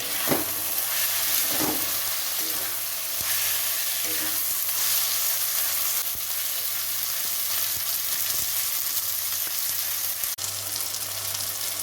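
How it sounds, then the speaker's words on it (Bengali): Chopped tomato sizzles and hisses steadily in a hot pan while being stirred for a restaurant-style pea and chicken mince dish, with scraping stir strokes now and then. "টমেটো কুচি দেওয়ার পরে ভালো করে নাড়ি ছাড়িয়ে নিতে হবে"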